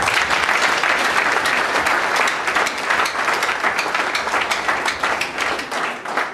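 Congregation clapping at a deliverance service, a loud sustained burst of many hands with some sharp individual claps standing out near the end.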